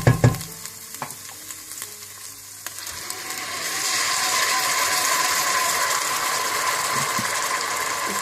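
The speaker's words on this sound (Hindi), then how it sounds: "प्याज, लहसुन और अदरक को अच्छी तरह भूनने के बाद आप इसमें ग्राइंड किए हुए टमाटर डाल दें" Onions, garlic and ginger fry in a pan, with a few sharp clinks and scraping stirs at first, then ground tomatoes go in and a loud, steady sizzle takes over and holds; no talking.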